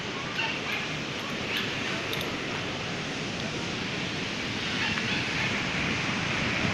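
A rushing waterfall seen on a walk roars as a constant, dense wash of noise, close and steady throughout, with no talking heard.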